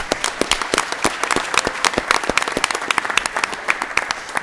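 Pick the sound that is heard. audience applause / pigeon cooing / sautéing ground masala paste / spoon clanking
audience applause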